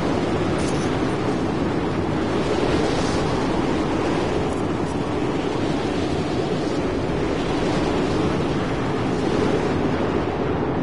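Steady desert wind in the video game Mad Max, a constant broad rushing roar with no letup, moderately loud and unbroken throughout.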